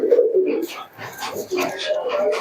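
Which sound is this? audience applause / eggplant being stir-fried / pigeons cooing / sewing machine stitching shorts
pigeons cooing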